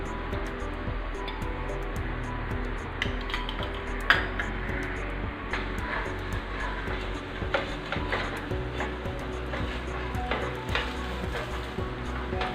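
A crispy dosa fries in a generous pour of sesame oil on a hot pan, giving a steady close sizzle broken by light scraping and tapping clicks.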